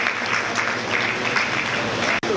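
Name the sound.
applause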